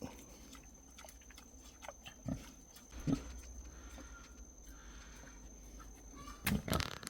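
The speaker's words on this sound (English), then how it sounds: "Ah, pig" Pigs in a pen on Niue Island eating coconut scraps and leaves, with scattered snorts, grunts and wet chewing in a few close bursts over a quiet background.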